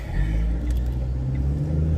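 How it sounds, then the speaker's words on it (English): A car rolls past on a road in the small town of Sunbury, a brief steady low rumble of passing traffic lasting about two seconds, heard from fairly close with no voices. "Even Sunbury's getting traffic."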